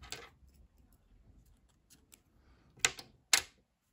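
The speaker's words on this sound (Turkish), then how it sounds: "Pembe renkli ipliği kesiyorum." Scissors snip through pink crochet yarn in a quiet room: a faint rustle, then two sharp, close clicks of the blades near the end.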